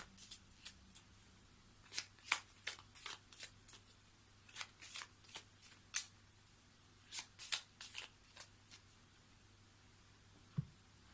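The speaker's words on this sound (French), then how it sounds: "Je vais essayer de battre un petit peu les cartes." Tarot cards being shuffled by hand, a series of soft, crisp riffling bursts at an irregular pace, close and fairly quiet against a faint steady hum.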